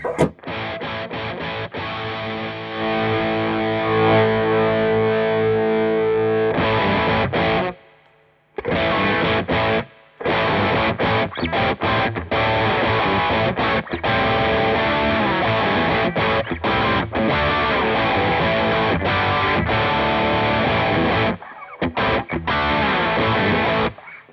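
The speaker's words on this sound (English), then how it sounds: "Nothing wrong with that guitar sound, is there?" Heavily distorted electric guitar through stacked overdrive pedals, including a Wampler Pinnacle Deluxe v2, playing chords and bluesy riffs, saturated and loud, with a couple of brief pauses between phrases.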